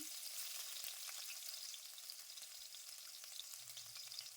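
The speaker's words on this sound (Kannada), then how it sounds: "ಸಾಸಿವೆ ಸಿಡಿದಾದ ನಂತರ ಒಂದು ಗಡ್ಡೆಯಷ್ಟು ಬೆಳ್ಳುಳ್ಳಿನ ಜಜ್ಜಿ ಹಾಕ್ಕೊಳ್ತೇನೆ" Crushed garlic and mustard seeds fry in hot oil, giving a steady, dense crackling sizzle with a few sharper pops, faint and even throughout.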